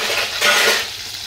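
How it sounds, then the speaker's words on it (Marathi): Garlic and curry leaves frying in a pan for a Konkan-style jackfruit vegetable dish, giving a short, loud, close sizzle with a brief swell in the middle and no voices. "चांगलं लाल होऊन दे लसूण"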